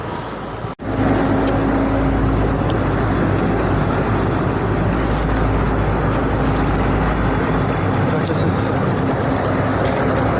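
A motorboat crossing the river at the Santipur ghat drones steadily and loudly close by, its engine rumble mixed with wind and water noise after a brief dropout near the start.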